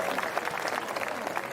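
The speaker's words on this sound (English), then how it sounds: "Karoo, you guys can give her a nice round of an applause." Audience applause at a live animal show, a short burst of continuous clapping from a crowd, moderately loud and steady with no clear speech over it.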